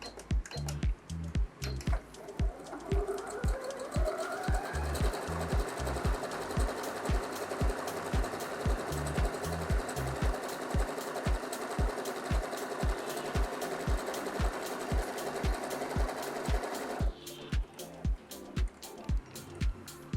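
An Usha Janome Sew Magic sewing machine stitches a pattern, starting with a few slow mechanical thumps, then running in a fast continuous whirring clatter, and slowing back to separate stitches at the end, close and steady.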